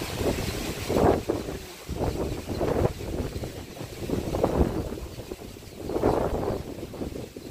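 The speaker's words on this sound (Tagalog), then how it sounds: "Pero hangin malakas." Strong typhoon wind buffets the microphone in rough gusts, rising and falling in loud surges with no voices.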